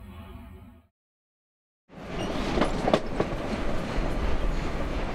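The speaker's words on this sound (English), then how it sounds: "A train riding the elevated lines of the Chicago Transit Authority." A Chicago Transit Authority elevated train rumbles over a bridge, loud continuous clatter and rattling wheels with rhythmic clicks, following a brief stretch of silence.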